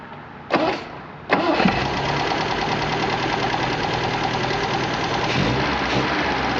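An MG car engine fitted with twin HIF carburetors starts with a couple of sharp catches, then settles into a steady, loud, close mid-pitched run with a slight throttle rise near the end.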